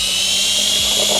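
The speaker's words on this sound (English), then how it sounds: "So now let's go and drill the holes in each side" A loud, steady high-pitched whine of a power drill with a 6mm bit boring continuously through car body metal, close up, with no talking.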